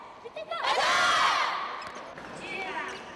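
Handball players shout a loud team cheer together just before a final in the Japanese league, a sudden burst of many voices that swells and then fades into crowd noise.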